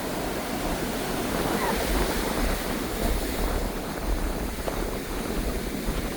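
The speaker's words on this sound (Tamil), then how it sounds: "பாருங்க எப்படி கடல் அடிக்குது அந்த முல்லைத்தீவு கடல் ஃபுல்லாகவே பாருங்கள்" Sea waves crash continuously on the shore at Mullaitivu, Sri Lanka, a broad, constant surf roar mixed with buffeting wind noise on the microphone, loud and enveloping without pauses.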